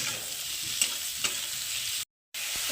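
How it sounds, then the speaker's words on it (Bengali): Cashews and tomatoes frying with onion, ginger and garlic in a pan, a continuous close sizzle with light stirring scrapes, cut by a brief silent gap. "এখন এর মধ্যে আমি কাজুগুলো দিয়ে দিচ্ছি, কাজু, আর দিলাম টমেটো। এগুলোকে এখন একটু আমি ভেজে নেব।"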